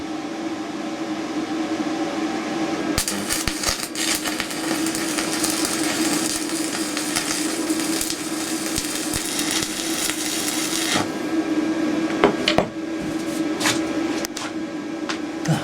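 An Edon MIG-255 inverter MIG welder runs at 120 amps on steel, with a loud, dense crackle that lasts about eight seconds over a constant electrical hum before cutting off.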